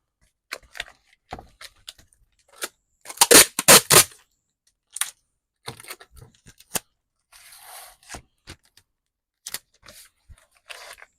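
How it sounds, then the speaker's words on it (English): Adhesive tape ripped off a roll in loud, crackling tearing bursts, then pressed down, with scattered sharp clicks and rustles around it and no talking. "The tape's a little loud."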